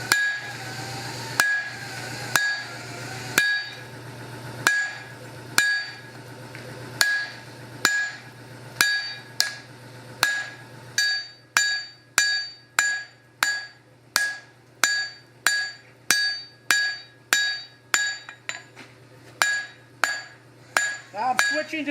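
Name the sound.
hammer forging hot steel for a hand-forged axe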